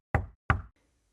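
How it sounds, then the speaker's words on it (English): Two sharp knocks on a door, evenly spaced and close, each with a short hollow decay, followed by near silence. "Even after moving to a new place, the knocking sounds followed. Just 3 knocks every night."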